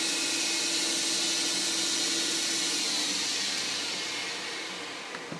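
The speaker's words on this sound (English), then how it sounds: "Turn off the spindle." A CNC lathe spindle on a Mach Turn setup with an iMachIII P1A-S pendant keeps up a loud, steady whirring hiss after being switched off, then gradually fades in the final moments as it winds down.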